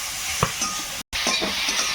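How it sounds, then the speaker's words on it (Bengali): Shrimp coated in salt and turmeric stirred into a pan of frying bitter gourd and potatoes, with a steady close sizzle, a few scraping stirs and a brief cut partway through. "এর মধ্যে চিংড়িটা দেবো চিংড়িতে লবণ হলুদ মাখানো হয়েছে এটাও একটু এসে দিয়ে হালকা করে নেড়ে ফেলে দেবো"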